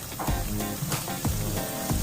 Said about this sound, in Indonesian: Kita goreng bersama minyaknya.